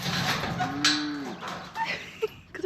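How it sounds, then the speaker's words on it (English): Cattle on a neighboring farm moo outdoors: one clear, drawn-out moo, followed by a few fainter, more distant calls. "Do you hear the cows? Those are my neighbor's cows."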